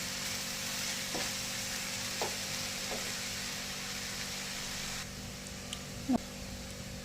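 Sweet corn bhurji with capsicum, onion and masala cooks in a pan, giving a steady, even sizzle with a few soft stirring knocks, close and continuous.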